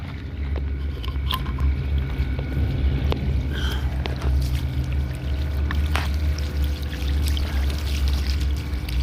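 Water from a direct solar-powered pump with a filter gravity-feeding out in a steady, continuous splashing pour, close by and alone, with a low rumble underneath and occasional small clicks.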